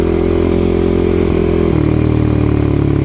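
A Suzuki LT-R450 quad engine runs loud and close, a steady buzzing drone with a brief dip and shift in pitch partway through.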